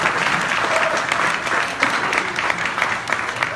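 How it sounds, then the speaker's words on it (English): Steady applause from a crowd, a dense wash of many hands clapping continuously throughout. "Let's give it another round of applause, ladies, if we can."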